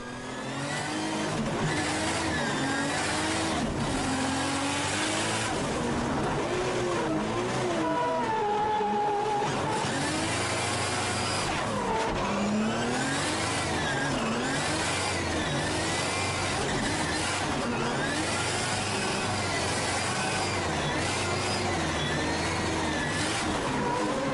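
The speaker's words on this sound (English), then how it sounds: "Let's jump on board with the Sony Action Cam in-car footage and check out his lap." Drift car at the Australian Drifting Grand Prix 2013 round in Perth, heard from the in-car onboard position during a qualifying lap: the engine roars and revs continuously, rising and falling sharply through gear changes and slides.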